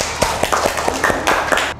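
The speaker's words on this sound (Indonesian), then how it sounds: "Jadi tepuk tangan dong bagi kita semua." A small group in a classroom claps briefly: a quick burst of sharp, uneven hand claps lasting under two seconds.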